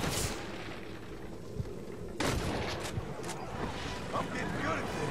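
Gunfire in the Red Dead Redemption video game, a few sharp shots and a louder burst cutting through busy background game noise, with someone talking over it.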